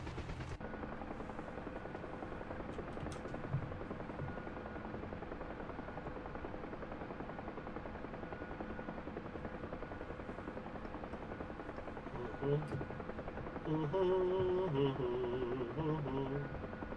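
Huey helicopter in flight in DCS, a continuous loud rotor drone and engine whine throughout, with a brief tonal warble and a small rise in level near the end.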